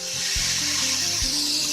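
Meat browning in a hot pan during an old-school stir fry, a loud continuous sizzle with a couple of low scraping stirs of the utensil against the pan.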